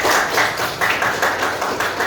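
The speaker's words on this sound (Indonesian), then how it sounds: "Tepuk tangan dulu untuk kita semua." A high school class clapping hands together in a classroom: rhythmic group claps in quick bursts, loud and near, repeating in a steady patterned beat.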